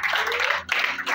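An audience at a Pentecost church service clapping hands, dense continuous applause with a brief dip in the middle, fairly loud and close, no voices over it.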